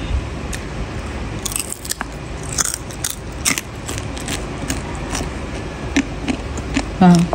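Crunchy squash chicharon, a fried snack made from squash, being bitten and chewed close up, heard as a series of sharp crisp crunches at an irregular rhythm over a low background hum.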